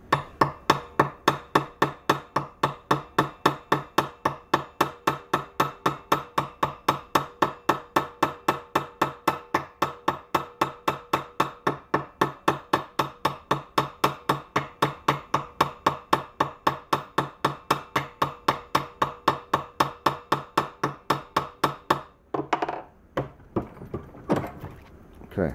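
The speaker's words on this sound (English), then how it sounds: "When you hit metal with the round side, it tends to mushroom it over" A round-faced ball peen hammer strikes a metal washer, mushrooming it while making a transfer magnet: a long run of rapid, evenly spaced sharp metallic taps, close and loud, ending with a few scattered handling knocks.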